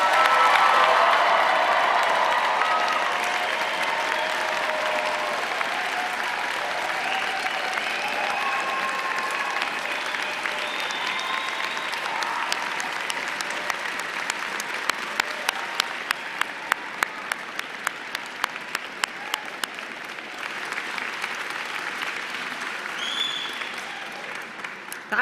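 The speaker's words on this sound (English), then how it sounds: "please join me in applauding the October" Convocation audience at a university graduation ceremony applauds the graduates with steady, sustained clapping and some cheering across a large hall, continuing evenly throughout.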